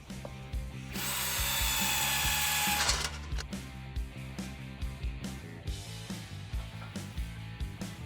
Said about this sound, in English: I can use one hole on each side and I'll just have to drill some new ones